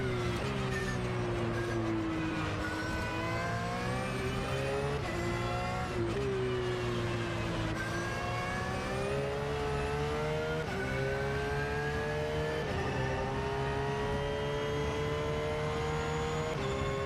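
Race car engine lapping in a racing simulator game while the tyres are warmed up, a loud continuous drone whose pitch rises and falls through gear changes and corners for the whole stretch, with no talk.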